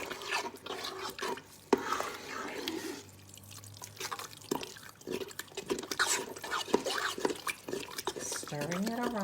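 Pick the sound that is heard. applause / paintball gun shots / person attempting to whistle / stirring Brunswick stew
stirring Brunswick stew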